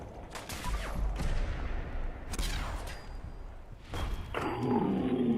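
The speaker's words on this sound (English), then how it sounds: "The rocket turret's definitely still going." A rocket turret defending a settlement in Fallout 4 fires and explodes in three heavy, booming blasts spaced a couple of seconds apart, followed by rumbling battle noise at moderate distance.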